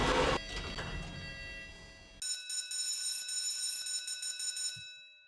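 A video-game elevator alarm bell rings steadily and evenly at moderate level for a few seconds, right after a brief burst of louder noise.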